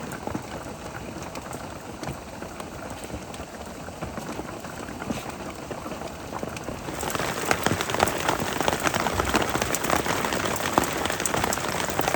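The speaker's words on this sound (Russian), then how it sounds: "это, конечно, прекрасно смотреть на дождь за окошком в теплом доме" Rain falls steadily outside a warm underground house, a dense continuous hiss of drops on surfaces that grows heavier and louder midway, with no voices.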